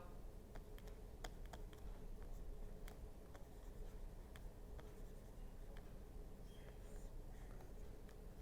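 Pen or chalk strokes drawing a Schmitt trigger circuit diagram by hand during a lecture, faint scratchy taps and scribbles scattered irregularly over a steady background hum, with no talk.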